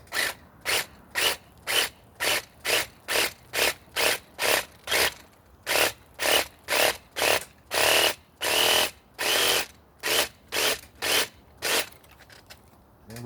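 A Black & Decker 20V reciprocating saw cuts through an apple tree branch in loud, even bursts of rasping strokes, about twenty in a row with brief pauses between, heard close and alone.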